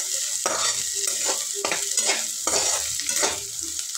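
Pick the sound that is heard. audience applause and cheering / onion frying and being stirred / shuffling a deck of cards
onion frying and being stirred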